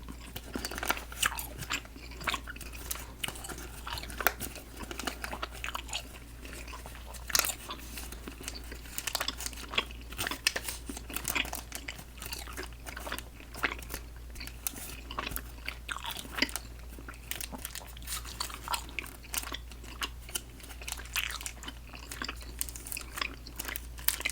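Someone chews soft salt water taffy close to the microphone, with steady wet, sticky chewing and small crunchy smacks repeating throughout, quiet and intimate, no talking.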